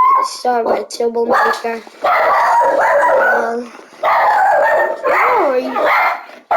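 A dog barks and howls nearby in loud, pitched bursts that bend up and down, some short and yipping and others drawn out, while a person talks over it.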